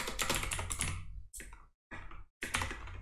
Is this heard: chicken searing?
no